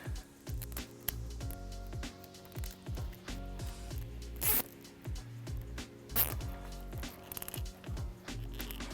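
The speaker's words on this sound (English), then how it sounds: "We're going to secure it using a zip tie." Plastic zip tie being ratcheted tight around trailer wiring on a 2018-2024 Jeep Wrangler, a series of quick rasping clicks in short bursts, close and fairly quiet with no talking.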